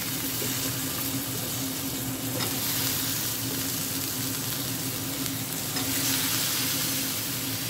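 Ivy gourd sizzles steadily as it fries in a pan, with scraping stirring sounds now and then and a faint low hum underneath, close and continuous.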